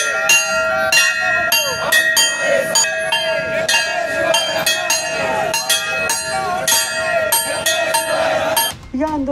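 Many bells clang continuously and loudly at a protest ringing bells outside the Nashik municipal corporation headquarters, Rajiv Gandhi Bhavan, with a dense overlapping metallic ringing under crowd noise.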